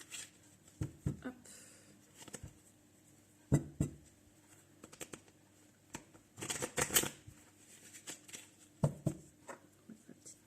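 A deck of mirror oracle cards being shuffled by hand in irregular soft riffling bursts and taps, close and quiet, with one longer shuffle near the middle.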